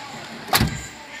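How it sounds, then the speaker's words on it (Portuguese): A car door slams once with a short, solid thump and a brief low-frequency boom, clear and fairly close against quiet background. "Vou fechar a porta aqui para mostrar para vocês."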